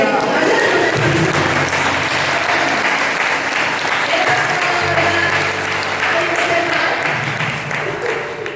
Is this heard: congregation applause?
yes